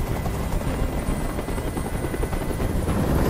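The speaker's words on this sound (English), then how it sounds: "Tell that helicopter to get out of here!" Helicopter in the video game Detroit: Become Human, its loud rotor roar and engine drone steady and continuous throughout, with no voices over it.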